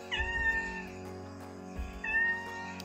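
A stray cat that sits on a house wall meows twice, two drawn-out, clear cries close by, separated by a short pause, over a steady low hum.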